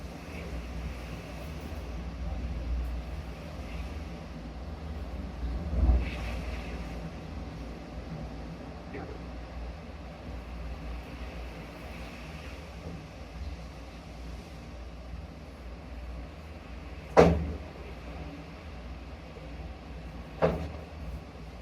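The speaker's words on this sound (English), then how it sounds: "You can hear things hitting the shed from all the high wind." Hurricane Helene's high wind roaring steadily outside a shed, with a few sharp knocks and bangs of debris striking it, spaced irregularly over the rumble.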